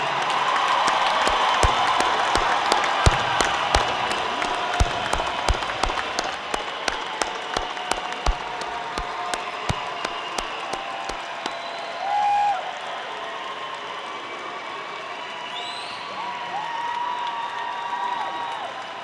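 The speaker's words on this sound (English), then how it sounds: "One more rousing applause for the class of 2017" Audience applause fills an arena at the Thomas Nelson Community College 2017 commencement, a dense sustained roar of clapping with scattered sharp claps and a few whoops, steady for most of the stretch before thinning slightly near the end.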